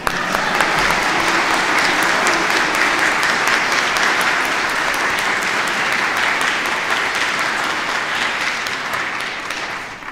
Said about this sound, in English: And now you'll clap a hand for them.